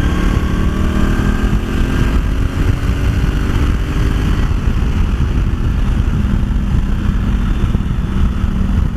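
A 2018 Honda CRF1000L Africa Twin Adventure Sports motorcycle engine runs loud and close throughout, a rough steady roar with some rising revs and wind buffeting.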